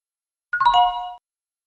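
A single electronic bell chime in a classroom rings once, clear and fairly close, sounding for under a second against an otherwise silent background.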